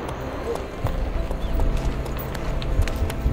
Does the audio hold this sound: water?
no